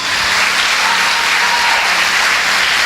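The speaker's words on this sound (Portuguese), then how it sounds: "Aplauda Ele, que Ele merece." Sustained applause from a church congregation during a sermon, dense steady clapping that fills the whole stretch at full loudness with no talk over it.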